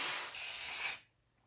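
Air rushes out of an inflated balloon in a loud, continuous hiss that lasts under a second and cuts off abruptly into near silence.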